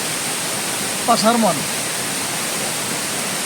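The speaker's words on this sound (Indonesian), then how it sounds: "Saat ini kita ada di air terjun" A waterfall in the wilds of South Lampung roars as a constant, loud, broad rush of falling water that fills the whole scene, with someone briefly speaking over it.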